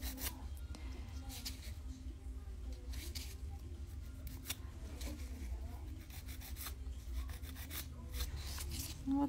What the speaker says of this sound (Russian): Теперь я пилкой еще раз пройдусь.